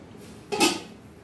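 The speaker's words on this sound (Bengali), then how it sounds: "একটু ঢাকা দিয়ে রাখছি।" A lid is set onto a kadai where onion and capsicum simmer in a little water, making one brief, close metallic clatter over quiet background hiss.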